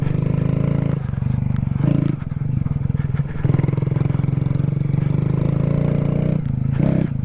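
A Honda Grom with knobby tires rides off-road on dirt, its small single-cylinder engine buzzing loudly and steadily, with throttle blips and revs rising and falling throughout, close to the microphone.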